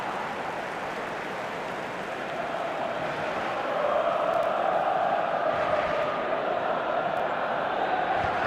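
Football stadium crowd in a video game, a broad continuous murmur of many voices that swells slightly partway through, distant and steady with speech faintly mixed in.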